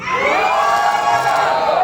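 A crowd of children at a Bible camp cheers and shouts together, a loud, dense, sustained roar of many voices close by.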